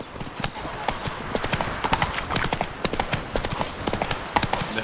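Hooves of Geralt's horse Roach in The Witcher 3 clop in a steady trotting rhythm, close and fairly loud, with a voice speaking over them.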